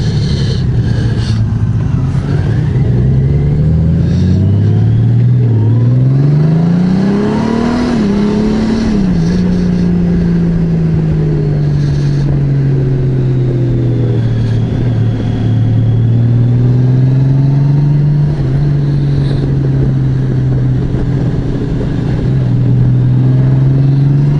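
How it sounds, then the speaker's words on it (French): A 2024 Honda Goldwing Bagger's six-cylinder engine roars loudly nearby, its pitch climbing as it revs, then holding at a steady, throaty drone. "ça fait moins gueuler le moteur"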